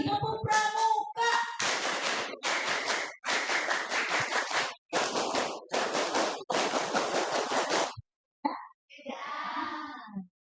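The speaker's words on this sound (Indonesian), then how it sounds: "2 kali tepuk pramuka" A group of school students in Indonesia performing the Pramuka scout clap, a chanted, rhythmic pattern of claps and shouted syllables in repeated loud bursts, followed by a short pause and scattered voices.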